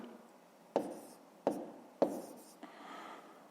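Numbers are written by hand on paper for a fifth-grade math exercise, heard as a few faint, close taps and short scratching strokes spaced about a second apart.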